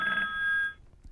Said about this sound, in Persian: تلفن دیگه ای داریم